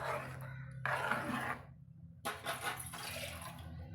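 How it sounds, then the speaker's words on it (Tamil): Water poured into a pan of jackfruit seed curry, a close splashing pour in two bursts separated by a brief pause, the second turning into a bubbly gurgle. "இப்போது தண்ணி தேவையான அளவு சேர்த்து நம்ம கலந்து விட்டுக்கலாங்க."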